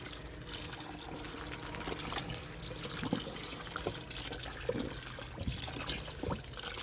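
Water from a direct supply line flows into a tank at a cattle stable, a steady trickling and splashing stream with faint background activity.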